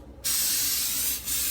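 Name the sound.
coconut cooking spray sprayed onto a pan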